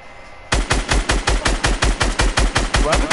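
A video game firearm opens up in steady automatic fire of about twenty evenly spaced loud shots, close and rhythmic, after a short quiet lead-in.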